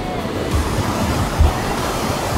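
Sea waves wash onto the shore at Itoshima beach in Fukuoka, a steady broadband roar with soft low thumps as the surf breaks, mixed with light wind noise and no voices.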